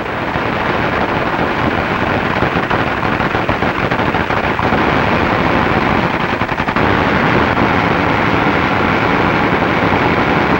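Sustained gunfire at an FBI training range, a loud dense wash of rapid shots and echoing reports that barely lets up, with wind-like roar underneath.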